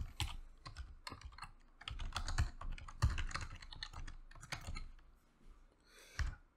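Typing on a computer keyboard while entering a username during a Windows Virtual Desktop setup: irregular bursts of quiet, close key clicks and taps over several seconds.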